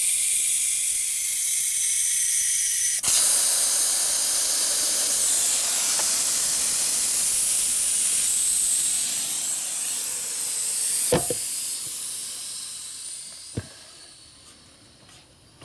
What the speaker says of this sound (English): So as you put air in the tube, will self-straighten.